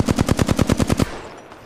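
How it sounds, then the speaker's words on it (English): A rapid burst of about ten evenly spaced automatic gunshots in Apex Legends, loud and close, cutting off abruptly and leaving a fading tail. "Being shot at."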